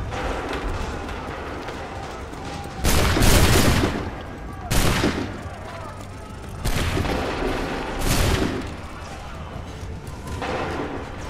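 Musket volleys fire in a battle in Assassin's Creed III, several loud booming bursts of massed gunfire cracking out at intervals over a constant noisy battlefield din.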